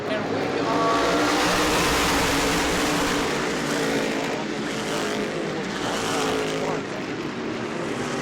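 Race cars at New Smyrna firing off the fourth corner into the start box, a loud, sustained engine roar that swells and holds across the pack, with broadband crowd and track noise beneath it.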